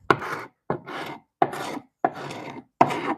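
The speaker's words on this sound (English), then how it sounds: "It has a carbide triangle cutter." A Baco carbide triangle scraper drags across a wooden dresser top, lifting old adhesive in five short rasping strokes with brief silent gaps between them, close and fairly loud.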